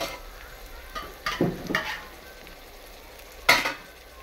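Ground tomato fries in a pan for chicken biryani, a low steady sizzle broken by a few scraping stirs of a spoon, close and without speech.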